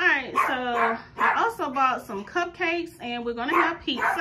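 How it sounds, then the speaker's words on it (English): A dog barks in several short bursts close by, partly mixed with someone talking continuously over it. "excuse my dog, he is barking."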